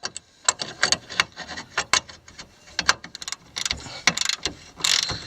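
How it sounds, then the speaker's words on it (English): Rapid ratchet wrench clicks in quick bursts, close and alone, as a control arm bolt is loosened while fitting Air Lift 1000 air bags to a vehicle's suspension. "So now I'm taking out the bolt on the control arm."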